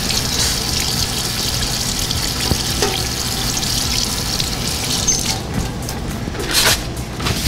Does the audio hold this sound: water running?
yes